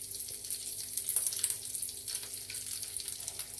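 Tortilla wrap sauce of ketchup, chili garlic sauce, honey, oregano and crushed red pepper cooking in a pan over a low flame, giving a faint, steady sizzle and bubbling throughout with no talk.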